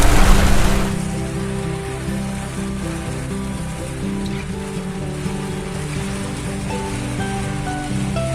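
Heavy downpour drumming on a car driving along a highway, a dense continuous hiss of rain over a low engine and road drone, loudest in the first second and then steady throughout.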